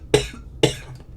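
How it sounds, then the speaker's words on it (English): Two quick, sharp coughs from one person, close to the microphone and about half a second apart, with quiet in between. "sorry, my bad, I had to cough"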